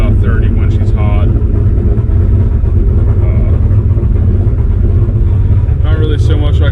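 An old cop truck engine idles a little rich, a loud steady low rumble throughout, with someone speaking over it.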